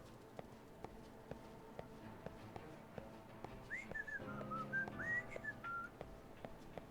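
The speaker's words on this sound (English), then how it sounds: "People also whistle to act casual." A character in the game Lost Judgment whistles a short wandering tune at moderate distance, entering midway over soft ambience and regular footsteps, with no speech.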